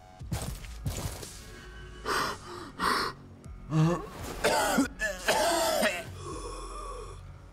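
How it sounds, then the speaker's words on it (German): A character in the video game Chornobyl Liquidators coughs repeatedly, with a string of harsh coughs, throat-clearing and gasping breaths in uneven bursts that come close and loud. "Erstmal erwartet uns ein Hustenreiz."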